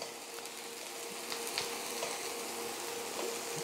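Mushrooms sautéing in a pan for a mushroom risotto, a steady close sizzle and fry with faint scattered crackles and stirring, no voices.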